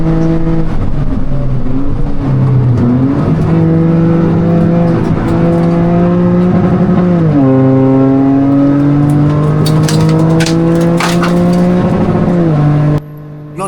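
Toyota GR Cup race car engine droning loud and steady from the cockpit, rising through the revs and bouncing off the rev limiter at gear shifts, with pitch dropping after each change and no talk.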